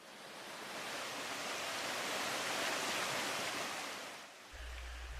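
Broadband hiss of a shallow, clear Smoky Mountains stream flowing steadily, a continuous wash of water that swells and dips slightly near the end, with no voices.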